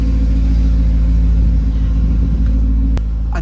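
A BMW E34 540i engine runs with a loud, steady low rumble throughout, a brief sharp click near the end as the level drops slightly.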